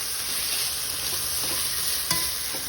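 Food sautéing in annatto oil outdoors, a steady close hiss and sizzle with a faint utensil tap near the end and no talking.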